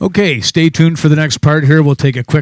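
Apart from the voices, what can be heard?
No distinct noise like a dog, phone or traffic.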